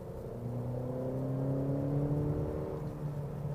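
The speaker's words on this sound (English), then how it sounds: "the one thing that I remember about Honda engines is that they love to rev" A 2014 Acura ILX Dynamic's Honda engine revs up, a smooth rising whirring drone that climbs in pitch over a few seconds, then eases slightly near the end, heard without any talking.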